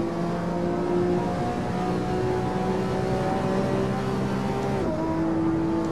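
Road car on road tyres, not race tyres, driven in Assetto Corsa. Its engine holds a steady, close drone throughout, then the pitch shifts briefly as a gear changes near the end, with no talk.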